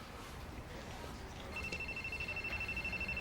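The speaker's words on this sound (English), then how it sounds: "Your cell phone. It's ringing." A cell phone starts ringing partway through, a faint high electronic pulsing ringtone repeating steadily over background room noise, following a brief murmur of voices.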